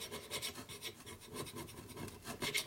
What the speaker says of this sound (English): Okay, now we gotta clean off these surfaces here. So I got my carbide scraper here,